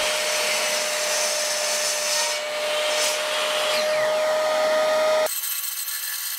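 A power saw crosscuts a thick beech board to length in a woodworking shop. It makes a steady whining, rushing cut for about five seconds, then drops away abruptly to quieter background noise.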